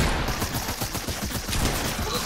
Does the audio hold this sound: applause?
no